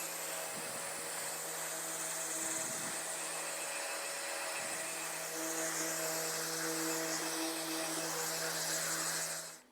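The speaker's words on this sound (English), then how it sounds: "now I'm going to go ahead and run the sander over it" An electric sander runs continuously over a thrifted home decor piece, a steady whirring buzz with a high-pitched whine that stays level, with a few faint low knocks underneath.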